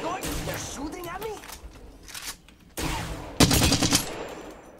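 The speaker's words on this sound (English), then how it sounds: "They're shooting at me?" Rapid bursts of automatic gunfire in the battle royale game Apex Legends, several dense volleys with a loud final barrage, mixed with a player talking.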